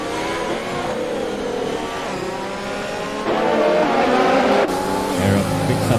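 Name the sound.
F1 race car engines in the video game F1 2020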